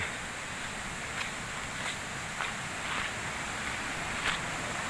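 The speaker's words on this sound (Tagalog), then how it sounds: "dinig na dinig po natin yung ingay ho ng tubig" Running water along a steep mountain trail makes a steady, fairly loud broadband rush that fills the whole stretch, with a few soft brief knocks and rustles on top and no talking.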